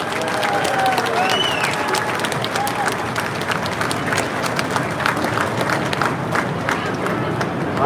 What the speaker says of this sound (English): Give yourselves a round of applause for riding public transportation.